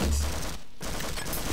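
A teammate opens fire in the game Garry's-Life Source, producing continuous dense gunfire that breaks off briefly and then resumes, fairly close and moderately loud.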